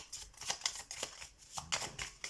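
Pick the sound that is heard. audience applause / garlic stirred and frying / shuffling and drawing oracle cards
shuffling and drawing oracle cards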